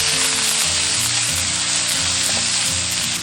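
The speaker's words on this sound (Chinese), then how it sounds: "下入肉末炒香" Minced meat sizzles and crackles in hot oil in a wok, a dense, loud, continuous frying hiss with a spatula scraping and stirring through it, no talking.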